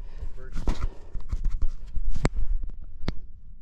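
Horses walking on a desert trail by a riverbed, with irregular hoof clip-clops and sharp knocks close by, while people talk over them.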